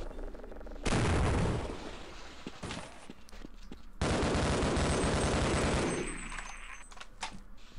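Gunfire in the 1998 video game Half-Life, two loud sustained bursts of shots and booms, each lasting a few seconds with a brief lull between, over a low game background.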